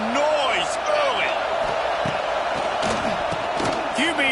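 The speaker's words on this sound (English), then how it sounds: "This crowd bringing the energy and noise early." Stadium crowd noise from a College Football 26 game, a continuous roar with bursts of cheering and shouts, loud and constant throughout.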